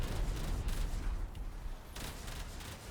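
Sci-fi torpedo fire in Warframe's space combat, a dense, rumbling barrage of launches and blasts rolling on continuously with short bursts, loud and close throughout.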